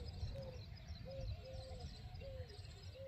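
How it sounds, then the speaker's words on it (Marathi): Peafowl call in village countryside during the hot summer, heard as faint, distant, repeated drawn-out cries over a quiet outdoor background. "असं सुंदर वातावरण आहे. मोरांचा आवाज,"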